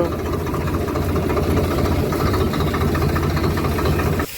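A tractor idles steadily nearby, a loud continuous low diesel rumble with a knocking vibration that holds for several seconds before dipping slightly at the end.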